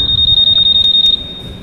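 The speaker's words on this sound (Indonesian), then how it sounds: "untuk mematikan dan menghidupkan alarm anti thief pada all new PCX 160" Honda PCX 160 2021 motorcycle anti-theft alarm sounding a rapid, loud, high-pitched electronic pulsing tone for about a second before cutting off, leaving low rumbling background.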